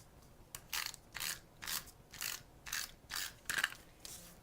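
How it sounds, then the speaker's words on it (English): A snail adhesive tape runner is pulled across Whisper White cardstock in about eight quick rasping, clicking strokes, each short and evenly spaced, close and fairly loud with no talking. "And then I'm going to bring my snail adhesive in."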